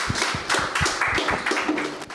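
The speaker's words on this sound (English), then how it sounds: "A huge round of applause for Bhoomika" A small talk-show audience clapping, with sharp uneven claps near and fairly loud, coming in brief irregular bursts rather than a full roar.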